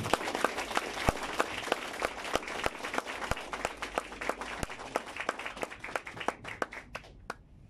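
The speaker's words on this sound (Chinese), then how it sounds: "让我们以热烈的掌声欢迎这位赢家赖冠发钻石" Audience applause welcomes a speaker onto the stage at a business event in Kuala Lumpur: dense, steady clapping from many hands that holds for several seconds, then thins to a few scattered claps and fades out.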